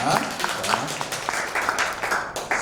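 A lecture audience claps together in a hall during a talk on learning English, a steady wash of many hands lasting a few seconds at moderate volume.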